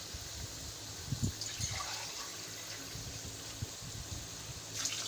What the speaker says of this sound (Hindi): 4 गिलास हम इसके अंदर पानी ऐड करेंगे